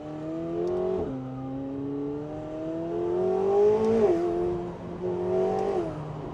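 A McLaren 750S Spider supercar accelerates hard, its engine note climbing steadily in pitch and then dropping sharply at each quick gear shift, heard close up and loud with no talking.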